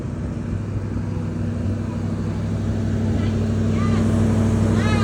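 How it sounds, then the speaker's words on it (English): A 1966 Mustang engine idles high while warming up nearby, a steady loud low rumble with a constant tone throughout, and faint voices toward the end. "So it's revving a little high right now."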